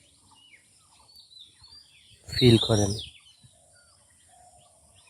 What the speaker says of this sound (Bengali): পাখির আওয়াজ শুনতেছেন?